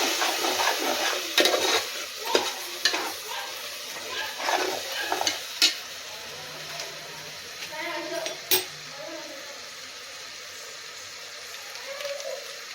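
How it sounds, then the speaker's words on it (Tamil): A spoon scrapes and knocks against a pot as curd is stirred into vegetable biryani, producing irregular clinks and soft wet scraping that fades toward the end while a voice talks over it. "தயிர் நல்லா கலந்து விட்டுடலாம்"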